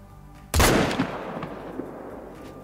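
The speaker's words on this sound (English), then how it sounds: "I prefer this shot, so this shot we will take." A single loud rifle shot fired at an Iberian wolf while hunting in theHunter: Call of the Wild, a sharp close crack with a long rolling echo that fades slowly afterward.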